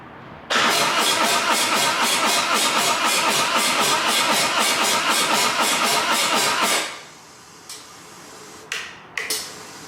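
A Harley Road Glide motorcycle engine cranks loudly for about six seconds in a fast, even rhythmic churn without catching, then falls silent, followed by a few faint clicks and knocks.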